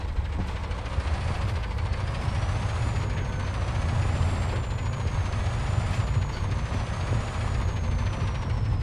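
A Kamaz Artic truck in the video game Mud Runner brakes with a hissing air-brake sound over a continuous, loud, heavy engine drone, and no one speaks.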